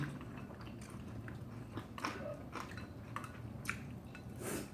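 Someone eating volcano chicken rice up close, with soft chewing and occasional sharper bites and clicks over a low background, fairly quiet throughout.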